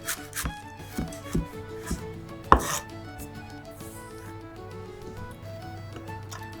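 A knife slices green onions rapidly on a cutting board in a quick series of sharp taps, close and moderately loud, with no talking.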